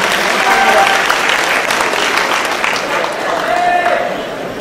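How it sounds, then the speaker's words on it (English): Loud, sustained audience applause fills a yo-yo contest hall, a dense steady wash of clapping from a large crowd that carries on without pause for the whole stretch. "Please give Spin Gear a big round of applause."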